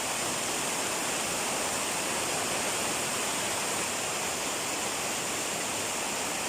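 Tat Tham Phra waterfall roars as a dense, constant rush of falling water, loud and close, with no voices over the steady wash.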